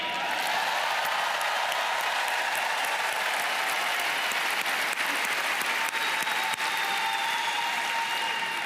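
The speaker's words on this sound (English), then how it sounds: "give them a cheer" A large shareholders' meeting audience applauds and cheers steadily and loudly throughout, a dense wash of clapping with no break or fade.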